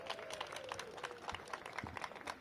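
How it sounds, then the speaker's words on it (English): Crowd applause at an outdoor ceremony marking the reconstruction of Monroe Street Bridge, honoring its construction team: scattered, moderately distant clapping from a gathered audience, with low thumps and a faint tone running underneath. "Please give them a big round of applause."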